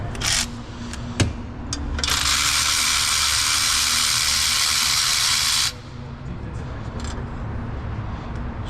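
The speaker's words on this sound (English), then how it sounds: "let's go ahead and remove these 4 bolts here." A ratchet works the downpipe bolts loose on a 2016–2021 Honda Civic 2.0L, giving a few sharp metallic clicks and taps, then a long steady buzzing whir in the middle before the clicks return, all close by in a garage.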